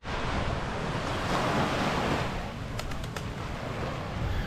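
Ocean waves at Alona Beach, Bohol, wash steadily onto the shore with a broad, continuous roar, mixed with wind buffeting the microphone and a few faint high chirps, and no talking.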